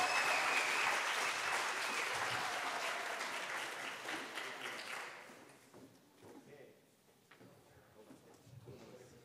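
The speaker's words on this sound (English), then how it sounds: "Give him a round of applause." Audience applause for a performer at an evening event, loud dense clapping that fades over several seconds to a thinner patter with some crowd voices.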